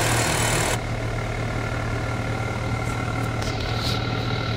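A Nissan Altima engine with a no-start, stalling fault runs with a steady, loud mechanical drone that shifts down in tone after the first second, then holds even.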